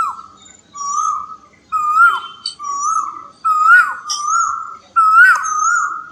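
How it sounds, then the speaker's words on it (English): An Asian koel calls repeatedly in a garden, loud rising whistled notes in rhythmic bursts with short gaps, while fainter chirps from other birds sit above them. "The Asian Koel is currently playing its famous album back here."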